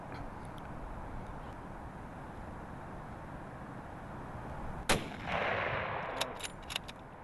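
A single rifle shot fired at a bull caribou during a big game hunt in Canada's Northwest Territories cracks out sharply after several seconds of quiet outdoor hiss, followed by a rolling echo and faint handling knocks.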